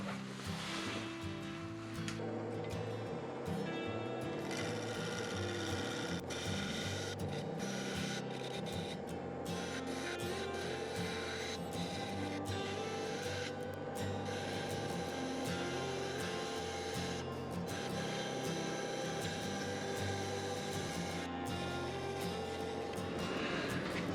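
A steady, continuous grinding hum with a scraping rasp as a wood lathe spins at 1000 RPM and a 3/8 inch bowl gouge cuts a segmented maple and resin bowl, with no breaks throughout.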